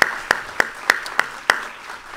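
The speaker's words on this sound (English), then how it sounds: "let's give another round of applause" Lecture audience clapping in an evenly spaced rhythm of sharp, distinct claps about every third of a second, a small sparse round of applause rather than a dense crowd.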